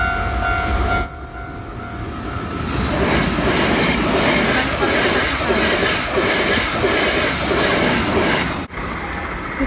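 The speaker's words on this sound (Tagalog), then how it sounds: "Yan na yung train." A train passes close by in Japan in spring, a loud continuous rumble of rolling wheels and rail clatter lasting several seconds, with faint voices in the background.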